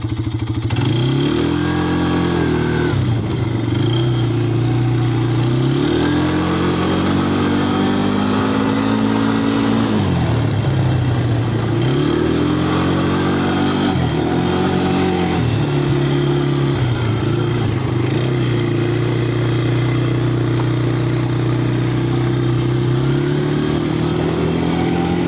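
Polaris Phoenix 200 quad's engine idling and revving in a garage, loud and close, with repeated rising and falling throttle blips over a steady running drone for the whole stretch.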